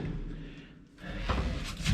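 A lift door in Belgrade is pulled shut, producing a muffled slam and clatter of metal, with faint movement around it and no clear talking.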